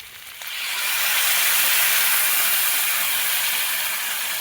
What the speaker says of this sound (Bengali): এরপর আমি পরিমাণ মতো জল দিয়ে দেবো সেদ্ধ হওয়ার জন্য।